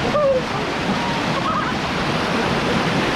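Steady rushing water roars loudly and continuously throughout, a dense broadband wash like a nearby waterfall, with no voices.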